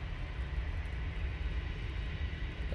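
A Ryanair airliner sits lined up on the runway at Manchester Airport, bound for Malaga, its engines giving a steady, moderately distant whine and rumble.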